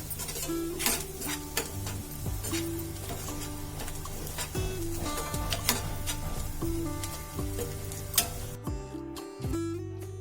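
Bharang wild greens being stirred with spices in a pan, a spoon scraping and clinking against the metal in an irregular rhythm over a soft steady sizzle, close and moderately loud, with no talking.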